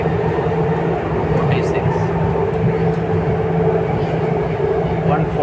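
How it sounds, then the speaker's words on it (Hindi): RRTS rapid rail train running at high speed, around 140 to 147 km/h, heard from inside as a steady loud rumble and rushing roar throughout, with a person talking over it. "और ये ट्रेन 140 की स्पीड तक रीच कर चुकी है।"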